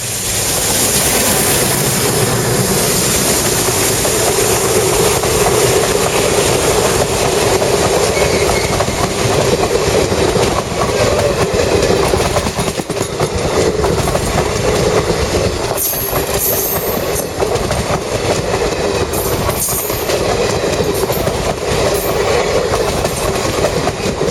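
A train rushes past at close range, its cars rolling by in a loud, sustained roar with clickety-clack rhythm and brief wheel squeals that persists for over twenty seconds.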